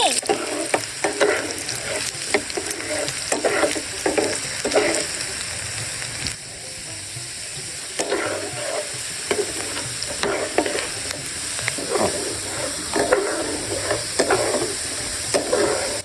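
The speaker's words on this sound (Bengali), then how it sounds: "আলু ভাজা হয়ে গেছে, এবার নামিয়ে নিব।" Steady sizzling of potatoes frying in a pan, with repeated scraping and stirring strokes throughout; no voices, the crackle stays close and fairly loud.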